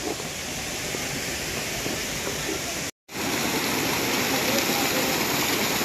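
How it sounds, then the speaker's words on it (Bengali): A waterfall along a mountain trail pours with a loud, steady, close-up rush that fills the whole scene, broken only by a brief cut partway through. "ঝর্ণার জল, কি আওয়াজ হচ্ছে।"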